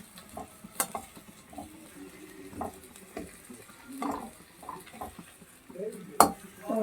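Faint frying sizzle of raw banana slices in a pan under intermittent scraping and clinks of a utensil moving pieces around.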